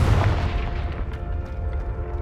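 A Confringo blasting curse explodes in Hogwarts Legacy inside a cave, a deep, loud boom at the onset that rolls off into a low, fading rumble.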